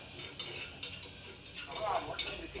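A spoon stirs and scrapes through a mixture of oats, almonds, peanut butter and whey protein in a bowl, with soft repeated clinks and scraping strokes at low volume.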